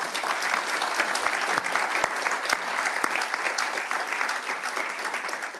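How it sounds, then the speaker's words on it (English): An audience at a World Health Assembly side event on pandemic readiness gives sustained, even applause. Many hands clap densely at a steady level throughout. "So give Precious another round of applause"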